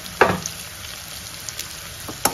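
Onions fry in a pan with a soft, steady sizzle, broken by a couple of sharp clinks from stirring, close and alone.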